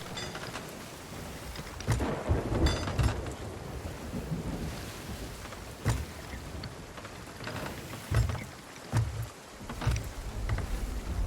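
A thunderstorm at sea in the pirate game Sea of Thieves: steady wind and ocean roar on a ship, broken by several heavy rumbling bursts of thunder, with no talking.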